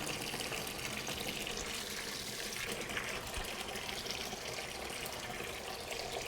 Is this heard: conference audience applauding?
no